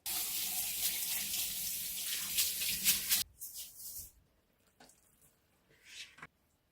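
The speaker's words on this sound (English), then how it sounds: "Add some water." Tap water runs steadily into a pot for cooking rice for about three seconds, then stops, followed by a few faint clinks and short splashes nearby.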